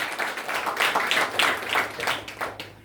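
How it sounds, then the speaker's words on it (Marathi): Audience at a Marathi community event clapping in a short, uneven burst of applause, moderately close, with individual claps audible and fading out at the end. "सर्वांनी टाळ्या वाजवाव्या."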